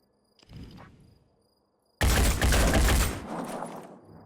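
A long-range gunshot in the tactical game Blood and Titanium: a faint early shuffle, then a sudden loud blast at about two seconds that roars broadly and decays over the next two seconds.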